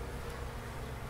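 Honeybees, including fat drones, drone in a dense, steady buzz inside an opened hive in Wiltshire, a close, continuous hum with no talk.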